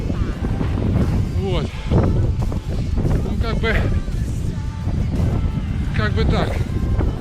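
Wind buffets a microphone outdoors in frosty, snowy weather after a run, a steady low rumble that continues under someone talking close by.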